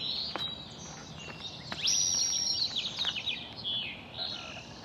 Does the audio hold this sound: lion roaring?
no